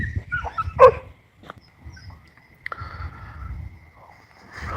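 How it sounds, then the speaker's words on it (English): A dog outdoors at night gives one sharp bark followed by a few fainter yips and whimpers, heard against a quiet background with low rumbling noise. "Lunatics walking a dog in the middle of the night."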